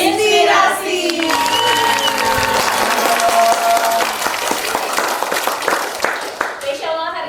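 Sustained applause from an audience at a Kalimantan Timur podcast event, dense clapping with a few voices mixed in, tapering near the end.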